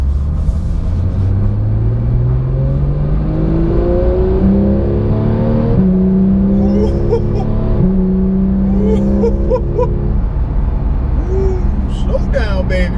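Porsche 911 GT3 (991.2) engine revving hard while driving, loud and close, with rising gear-by-gear pulls and brief shifts between them, continuous throughout.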